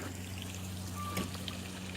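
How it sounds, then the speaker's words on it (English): Small waterfall spilling into a concrete gunite koi pond, a steady soft pour and trickle of water running continuously at close range with no talking. "We have a little waterfall there,"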